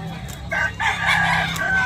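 A rooster, a two-year-old grey fighting cock for sale, crows in a loud, close call with rising and falling tones over a steady low hum, with someone talking around it.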